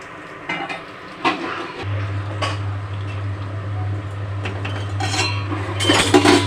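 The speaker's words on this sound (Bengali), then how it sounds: "এবার আমি ঢাকনা দিয়ে ঢাকা দিয়ে রেখে দেবো একটুখানি সময়।" A lid clatters onto a pan of boiling taro flowers, leaves and chilli, with metallic clinks and scraping over a steady low stove hum and a bubbling simmer.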